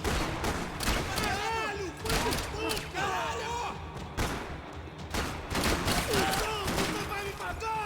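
Shooter game Max Payne 3 firefight: repeated loud gunshots and bursts of fire throughout, dense and close, mixed with shouting voices and game sounds.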